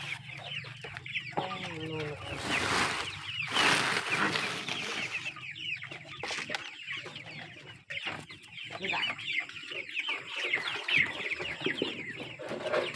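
A flock of 45-day-old chickens clucks continuously while being fed at night, a busy close chorus of overlapping calls with occasional louder rustling bursts.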